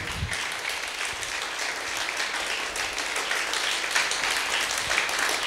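A church congregation at a Christian worship service claps together in a dense, steady round of applause that lasts throughout without pause.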